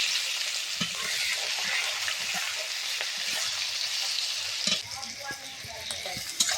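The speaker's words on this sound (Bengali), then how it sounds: "পেঁয়াজটা লাল লাল করে ভেজে নিতে হবে।" Sliced onions frying in hot oil with garam masala and bay leaf, a steady bright sizzle with occasional scrapes and clinks of a stirring spoon, close and continuous.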